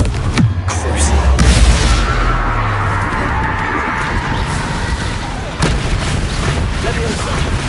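Confringo spell blasts in Hogwarts Legacy, loud booming impacts over a dense rumbling battle background, one heavy hit early and another later, with a voice speaking over the action.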